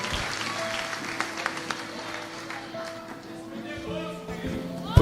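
A church congregation claps scattered and fairly soft under organ or keyboard chords and background voices, the applause thin and uneven rather than a full ovation.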